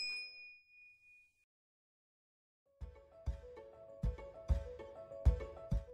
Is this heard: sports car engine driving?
no